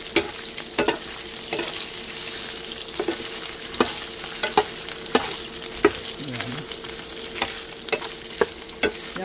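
Ingredients for ginisang munggo, a mung bean dish with onion, tomato, garlic and shrimp, sauté in a pan under a steady sizzle. A spatula strikes the pan in regular clacks about once a second.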